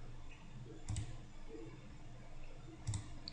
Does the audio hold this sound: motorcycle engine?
no